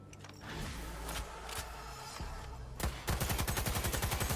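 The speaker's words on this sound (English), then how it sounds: "This is the light machine gun." A light machine gun in Cyberpunk 2077 opens up after a quiet stretch of handling noises, firing a fast, evenly spaced burst of loud rounds that runs to the end.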